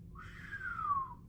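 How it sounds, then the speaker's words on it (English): One person whistles a single rising-then-falling note lasting about a second, fairly clear and alone over a low background hum. "can't really whistle that well, but you get the point"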